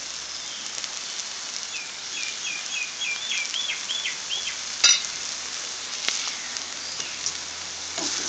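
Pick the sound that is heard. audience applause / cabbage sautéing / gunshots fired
cabbage sautéing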